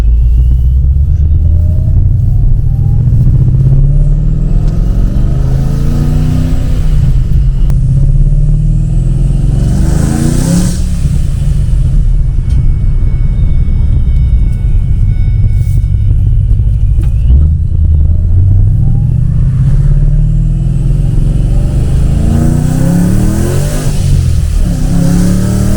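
A 2012 car fitted with a Tial 50mm blow-off valve revs hard again and again, its loud, rumbling engine swelling and dropping, with short hissing vents between the rises.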